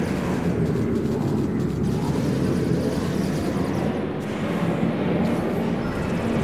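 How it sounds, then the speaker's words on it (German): Loud, steady roar of aircraft engines in the video game Spore, a dense continuous rumble that holds at the same level throughout with no talk. "Boah, ist das laut aber auch, ey. Was haben die denn für Flugzeuge?"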